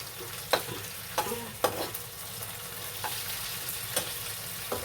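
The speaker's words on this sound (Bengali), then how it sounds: "মাছটা ভাজা হচ্ছে।" Tangra fish fry in hot oil for a potato and fish curry, a steady close sizzle broken by a few sharp clinks and scrapes of a stirring utensil, with no voices.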